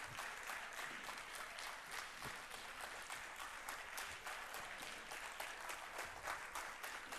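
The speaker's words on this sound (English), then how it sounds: "Let us have a standing ovation for them. Thunders of applause for the engineer Ratan Kumar and team." A large audience gives a standing ovation for an engineer and his team at an alumni calendar inauguration, with dense, sustained applause that holds steady and fills the room for several seconds.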